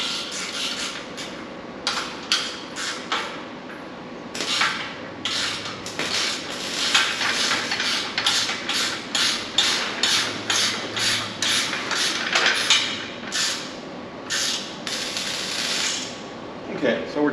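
Bolts on a Summit High Top creeper are tightened by hand, giving quick bursts of sharp metallic ratcheting clicks in an uneven rhythm, close up, with a faint voice in the background.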